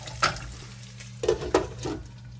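Fat rendering in a pan, a low steady sizzle with a few louder bubbling pops and stirring scrapes, close and fairly quiet.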